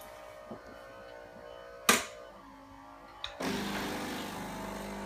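A Saeco Intelia Evo coffee machine preheating: quiet internal humming, a sharp click, then a steady hissing, whirring purge that starts abruptly and continues to the end, heard close up.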